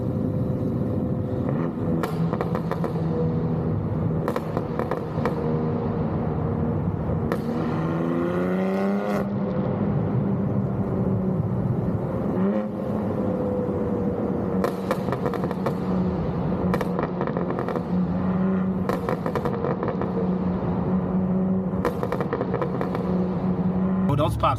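BMW M3 G80 with a new aftermarket exhaust drives through a tunnel, its engine note steady and loud throughout, with repeated sharp pops and bangs crackling from the exhaust at intervals.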